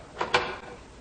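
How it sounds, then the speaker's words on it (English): A wooden door is opened as a sound effect in an old-time radio comedy show, giving two quick close knocks or clacks of latch and hinge over a steady background hiss. "I'm opening the door."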